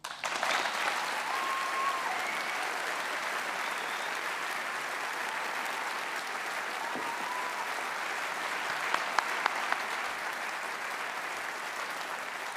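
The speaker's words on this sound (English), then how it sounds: "with a warm round of applause" A sustained, warm round of applause from the crowd at the ISZL 2024 graduation ceremony, a dense, even spread of many hands clapping that holds steady for the whole stretch, with a few sharper claps standing out near the end.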